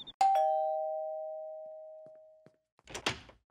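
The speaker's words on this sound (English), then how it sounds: "I'm being a rascal and ringing people's doorbells and running away." A two-tone ding-dong doorbell rings once nearby, its second tone sustaining for a couple of seconds before fading, followed by a brief knock-like thud and rustle.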